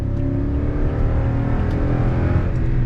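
Rumbling V8 engine note from a 2021 Toyota Tundra Platinum pickup with a naturally aspirated 5.7-liter V8, pulling away from a parking spot under throttle, a steady loud drone heard up close from inside the cabin.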